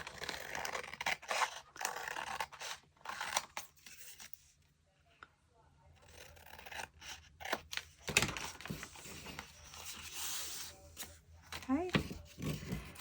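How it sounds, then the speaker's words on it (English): Scissors snip through paper in short, crisp bursts of cutting with a brief pause midway, close and fairly quiet, while a person talks softly during a journal-making craft project. "Just using my scissors."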